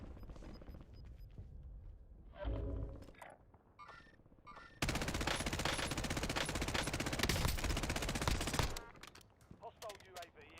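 Gunfire from the video game Warzone: a few scattered shots lead into a long, dense burst as a whole magazine is emptied, loud and continuous for about four seconds before stopping.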